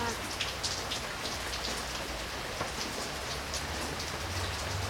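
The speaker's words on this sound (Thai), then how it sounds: "รอให้ฝนหยุดมั้ง" Steady rain falls on surfaces nearby, a dense even hiss with scattered drop ticks, fairly quiet and unbroken.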